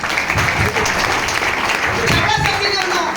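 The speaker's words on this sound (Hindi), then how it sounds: "एक बार जोरदार ताली" An audience bursts into loud, sustained applause at a speaking event, dense clapping filling the room from start to end while a voice carries faintly beneath it.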